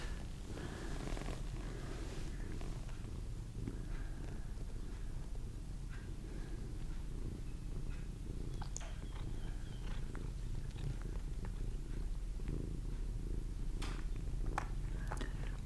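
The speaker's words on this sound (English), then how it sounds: "Can you hear this cat purring?" A cat purrs continuously and close, a low steady rumbling drone that holds throughout, with faint small clicks above it and no talking.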